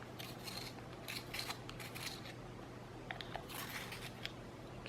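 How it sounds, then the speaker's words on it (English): A colored pencil being turned in a small pencil sharpener while a hum runs steadily underneath, with soft rasping, scraping bursts in two clusters. "Let me use my pencil sharpener, sharpen that a little bit."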